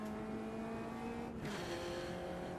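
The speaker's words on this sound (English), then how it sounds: "I get to really feel like I'm driving this Caterham around Donington Park" A Caterham race car in the Automobilista 2 racing game, lapping Donington Park, its engine droning loud and steady with a pitch dip and recovery around a gear change, tyres and wind rushing underneath, no voices.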